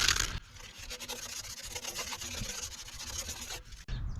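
Sandpaper of 120 grit roughs up a smooth surface on a vintage bike part, a steady close rubbing scrape running for several seconds with brief pauses at the start and end.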